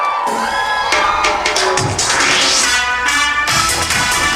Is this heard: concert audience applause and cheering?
yes